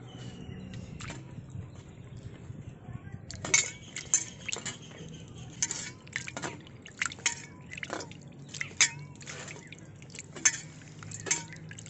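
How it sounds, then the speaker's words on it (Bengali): Peeled prawns are washed in a bowl in a village kitchen, with soft sloshing water, drips and clinks of metal against the bowl repeating irregularly at close range. "এবার আমি ধুয়ে নিচ্ছি এই বাটিতে।"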